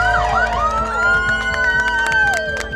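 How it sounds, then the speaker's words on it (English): Police siren sound effect wailing continuously and loudly, its rising and falling tone sweeping through the whole stretch with a faint crowd murmur beneath. "Siren or no siren? Siren!"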